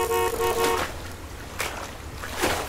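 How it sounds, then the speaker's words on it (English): A boat horn sounding in a Roblox fishing game, opening with a loud sustained honk that cuts off before a few short noisy bursts follow. "Let me just honk them away or something"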